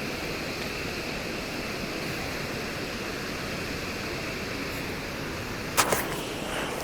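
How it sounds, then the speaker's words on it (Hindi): The Saraswati river runs fast near Mana village, giving a constant broad rushing roar of water with a brief sharp clatter near the end. "ये सरस्वती नदी है और देखो कितने तेज़ बहाव में बह रही है"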